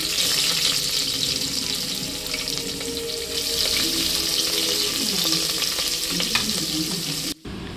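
Onions fry toward golden brown in a pan with a loud, continuous crackling sizzle and some stirring clatter, ending with a short sharp cut.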